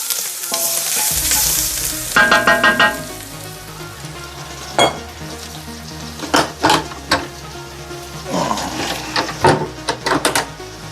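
Garlic frying in a cast iron pan, with a steady loud sizzle and repeated scraping, clanking stirs against the metal that land in irregular bursts, no voices.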